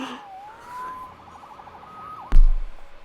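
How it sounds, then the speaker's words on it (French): A police siren in the video game Spider-Man Remastered wails with a rising and falling tone for a couple of seconds, then a loud low thud cuts in and rumbles briefly. "Sauvé par les sirènes."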